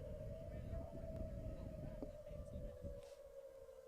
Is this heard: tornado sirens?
yes